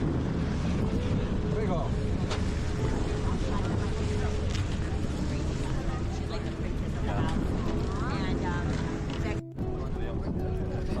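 A steady engine drone and rushing wind of a passenger boat on Lake Como, Italy, with people talking nearby throughout.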